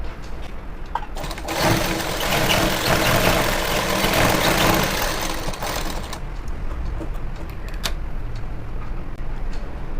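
A tailoring sewing machine stitches a folded pant hem in a single loud, steady run of several seconds, then stops, leaving quiet room noise.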